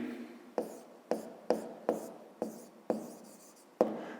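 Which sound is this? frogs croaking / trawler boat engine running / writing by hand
writing by hand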